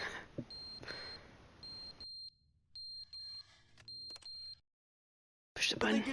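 Fire alarm in the video game The Stanley Parable, sounding as repeated short high electronic beeps in evenly spaced bursts, moderately loud, with a brief silence and then a louder burst of noise at the end.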